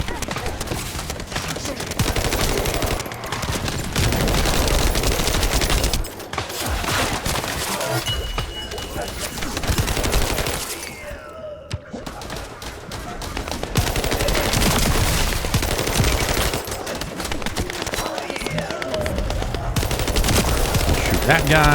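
Dense gunfire in a Call of Duty match: sustained automatic bursts and crackling shots with shattering impacts, loud and continuous apart from a brief lull near the middle.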